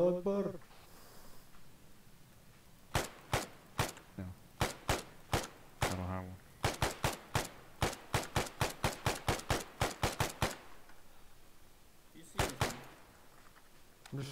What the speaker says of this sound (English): Shooting at this point.